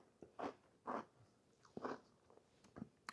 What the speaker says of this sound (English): Can y'all hear the crunch from the cookie?